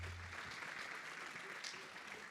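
Steady applause from a church congregation fills the whole moment, dense and even, with no voice rising above it.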